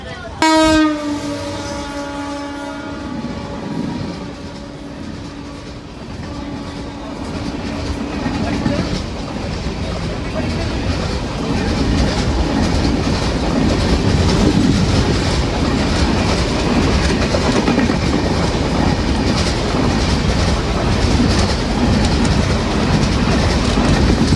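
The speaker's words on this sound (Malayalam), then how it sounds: "മഡ്ഗാവിൽ നിന്ന് മുംബൈയിലേക്ക് പോകുന്ന ഒരു എക്സ്പ്രസ് വരുന്നുണ്ട്." An express train from Madgaon to Mumbai on the Konkan Railway arrives at a station, opening with a long, loud horn blast before a heavy, building rumble and clatter of wagons rolling close by.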